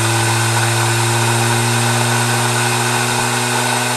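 A 3D printed Tesla turbine spins at about 6,000 RPM, producing a steady loud whirring hum with a constant pitch and rushing air noise, continuous and unbroken with no voices.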